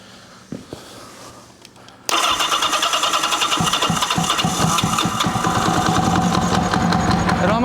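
A 1980 Kawasaki KZ750 motorcycle, its intake soaked with starting fluid, cranks briefly and then catches, bursting into a loud, close, rough running roar that holds steady.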